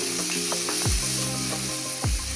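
Cumin seeds and a spoonful of oil in a pan for green chilli thecha, a constant bright sizzle close up, with scattered scraping and stirring knocks and a couple of low metallic thumps.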